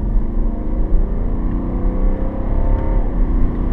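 A six-cylinder diesel engine in a 2018 BMW X3 30d drones loudly and close, its rumbling pitch gradually rising as it accelerates, with no talking.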